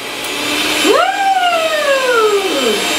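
A CUSINAID 5-speed electric hand mixer whirs loudly, its motor pitch swooping up sharply as the speed is raised and then easing into a steady, slowly falling whine, close up and alone.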